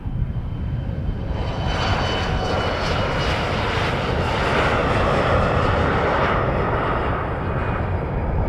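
An Air Inuit propeller airliner on the runway at Montréal-Trudeau Airport, its engine drone loud and steady throughout, a broad continuous roar that swells slightly in the middle.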